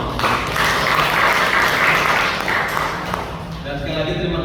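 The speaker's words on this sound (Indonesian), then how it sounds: "Tepuk tangan dulu untuk kita." A church assembly audience claps at an opening session in a hall, a dense, loud burst of applause that holds steady and then thins out toward the end.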